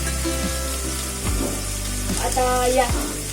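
Onions frying in a pan until browned for Amritsari chole, a steady close sizzle with a faint tonal hum underneath and a few soft stirring scrapes, no talking.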